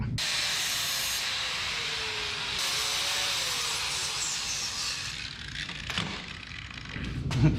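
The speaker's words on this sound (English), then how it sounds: "That flapper was taking off more than I thought it was." A flap disc grinder trims a metal dowel pin on a 1967 Pontiac Firebird project, a loud continuous hissing grind that tapers off near the end into a few quieter knocks.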